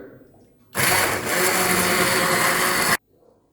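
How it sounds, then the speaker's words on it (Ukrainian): A handheld blender purees cheese soup in a pot, whirring loudly and steadily for about two seconds after a sudden start, then cutting off abruptly into quiet. "Тепер ми беремо блендер звичайний. І блендером працюємо і робимо усе це в пюре."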